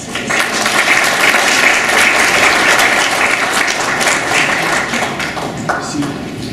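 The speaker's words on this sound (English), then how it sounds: "So a round of applause for our panelists." Sustained applause from a large audience at a panel discussion, steady and loud throughout, with dense overlapping claps.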